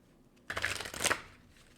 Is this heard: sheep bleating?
no